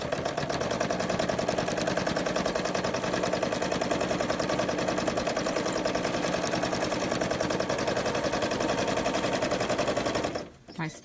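A sewing machine does free-motion quilting on a sample, running at a fast, even rhythmic chatter for about ten seconds before stopping, with someone talking over it.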